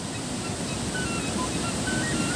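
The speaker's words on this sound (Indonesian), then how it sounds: "Airnya masih sangat deras sekali" Fast-flowing river water rushes beneath a long bridge near rice fields in a rural village, a dense, continuous roar without breaks, steady and loud throughout.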